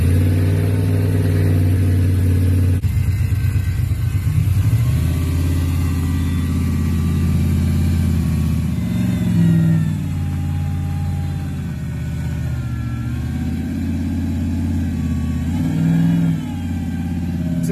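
A BMW E36 with a turbocharged LS V8 swap, driven with a manual gearbox, idles and revs in a steady, loud, close drone, with rising and falling engine pulls throughout and no talk.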